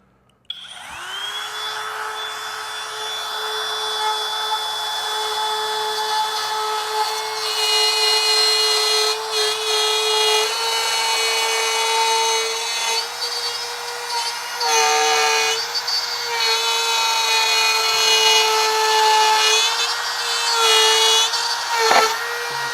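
A handheld wood router fitted with a guide bushing cuts through wood along a template in a single pass, its high whine starting up abruptly and running steadily and loud close by, with its pitch dipping under load near the end.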